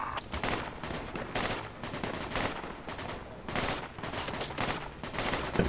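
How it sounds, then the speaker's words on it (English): Dense, continuous gunfire in the Project Reality military shooter game, rapid bursts and volleys crackling loudly throughout with a few faint voices mixed in. "He's getting shot at."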